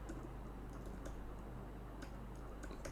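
Computer keyboard typing a command, soft close key clicks scattered irregularly over a steady low hum, with no speech.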